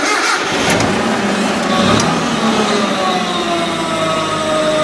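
Mitsubishi lift truck with a stick shift, its engine cranking then catching into a loud rough idle that keeps running steadily, close to the microphone.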